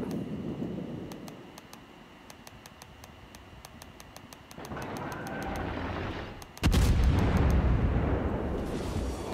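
Naval guns firing in World of Warships: a rapid series of sharp ticking clicks, then a rising rumble and a sudden heavy boom that rolls on as a loud, sustained roar.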